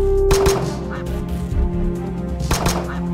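Cartoonish duck quacks and honks from the game Unrelaxing Quacks, a Brotato-like arena shooter with ducks, come in two loud bursts near the start and end over a steady layer of game music and effects.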